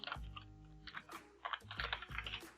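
Typing on a computer keyboard: a short, soft burst of close key clicks in an irregular rhythm, with no voice over it.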